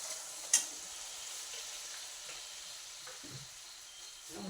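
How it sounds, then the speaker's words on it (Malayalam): Vinegar poured into frying beef pickle gives a faint, steady sizzle and hiss, with a brief sharp click near the start and a few soft stirring knocks. "ഇനി നമ്മളിതിൻ്റെ അകത്തേക്ക് വിനാഗിരി കൂടി ഒഴിച്ച് കൊടുക്കുകയാണ്."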